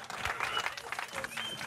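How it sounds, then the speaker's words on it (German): Scattered clapping from a small group of people heard at a distance, with voices talking over it in the foreground; brief and fairly faint. "da klatschen sie"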